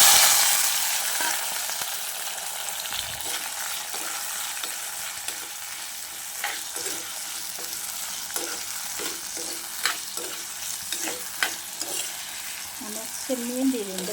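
A prawn theeyal spice mixture of vegetables, shallots, onion, snake gourd and green chillies sizzles and fries steadily in a hot pan, stirred with soft scraping clicks throughout, without speech.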